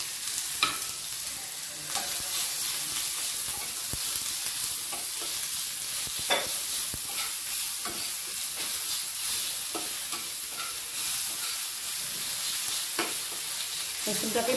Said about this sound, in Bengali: রসুনটা আমি দিয়ে দিলাম।